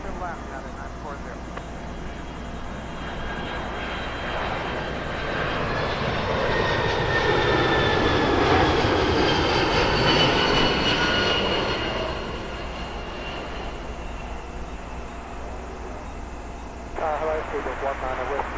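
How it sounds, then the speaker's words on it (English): Boeing 767-300ER airliner inbound from New York landing on runway 09 left at Heathrow, its jet roar swelling from a distance to a loud peak with whining engine tones, then fading, as radio voices talk over it. "767-300ER inbound from New York"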